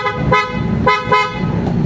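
Aftermarket PIAA horns fitted to a Honda City car, blasting three loud, close honks in quick succession with short gaps, each a bright two-tone blare over a steady low hum.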